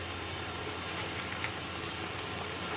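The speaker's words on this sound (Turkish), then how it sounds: "güzel kokusu gidene kadar kavuracağım camlarım benim" Tomato paste sautéing in a pan, a steady, close broadband sizzle that continues evenly throughout with no talking.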